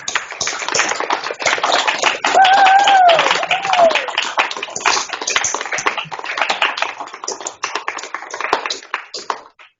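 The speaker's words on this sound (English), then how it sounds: "give a warm round of applause to Pro Football Hall of Famer, Mr. Joe DeLamielleure." Warm applause greets a Pro Football Hall of Famer at a formal event, steady clapping from an audience sustained for several seconds, with a voice briefly audible over it before the clapping thins out and fades.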